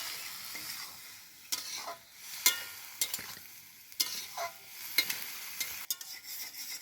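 Vegetables and spices are stirred in a frying pan for a stale puti fish chachchari, a spatula scraping and knocking at intervals over a soft, steady sizzle.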